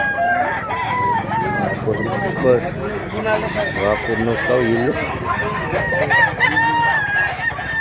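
Several roosters crow repeatedly at a busy chicken market in Mantalungon, Cebu, with steady clucking and overlapping calls close by, under continuous conversation between people.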